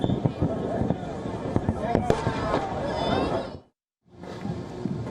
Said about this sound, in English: Annual concert and fireworks.